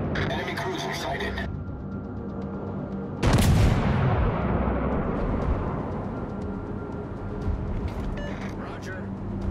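Naval artillery fires at an enemy warship in World of Warships: Legends, one loud booming salvo with a long rumbling decay. Game sound effects and radio-style voice lines play around it.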